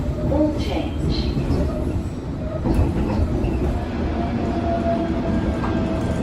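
A London Underground Metropolitan Line train running toward Watford, with a steady loud rumble of wheels and motors throughout and faint occasional squeals from the track.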